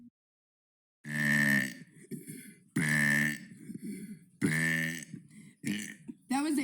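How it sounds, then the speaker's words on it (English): A person lets out three long, loud burps, each followed by short grunting throat sounds, close to the mic in an otherwise quiet room. "That was day 5 out of 100 days of burping"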